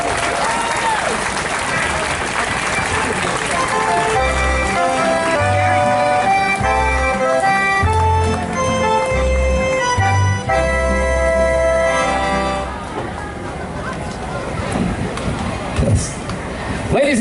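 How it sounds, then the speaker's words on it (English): Crowd applause fills an outdoor opening ceremony at Solvang's Danish Days festival, a steady, dense wash of clapping and cheering that runs the whole time, with band music playing underneath for part of it before the clapping continues alone. "How about another big round of applause?"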